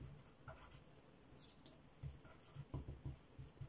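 A pen scratches across paper in short, quiet strokes with small pauses between them, faint and close, while a voice talks over it.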